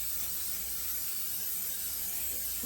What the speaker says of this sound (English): We're gonna add some non-stick cooking spray.